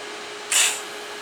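A TIG welder makes a single fusion tack on 20 gauge mild steel sheet, a brief bright hiss lasting about a quarter second over a steady low hum, close and fairly loud.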